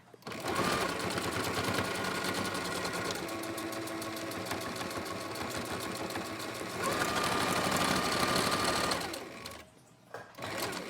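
A sewing machine stitches the folds of a cloth face mask, running in a steady continuous whir with a brief change in pace partway through and a short stop near the end, close and fairly loud.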